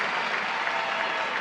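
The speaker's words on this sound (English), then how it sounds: "Let's give all of these remarkable seniors a round of applause" A high school graduation audience gives dense, steady applause, many hands clapping together evenly throughout a short burst.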